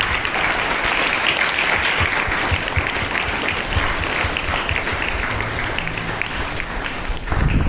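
Students and staff clapping at a school morning assembly, a dense, steady wash of applause from a large crowd lasting several seconds, loud and continuous before tapering at the end.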